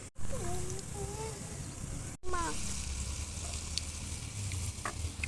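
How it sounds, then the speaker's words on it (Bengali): Jalebi batter frying in hot oil: a continuous bright sizzle with a brief cutoff partway through, while a voice talks over it. "তো এখন আমি জিলাপিটা তেলে দিয়ে দিচ্ছি।"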